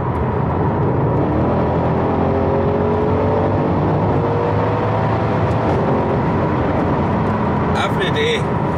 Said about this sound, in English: I don't know if it's the V8, that Miltech exhaust, or the wee pops and bangs it does